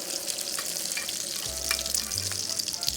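An egg foo yung patty fries in a pan with a steady, close sizzle throughout, with faint clinks and a low hum joining partway through and no talk.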